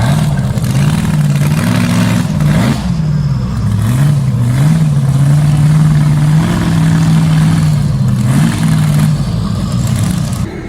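A two-wheel drive truck pulls hard at a county fair truck pull, its engine roaring loud and close, revving with rising and dipping pitch as it strains down the track, steady throughout with no talk.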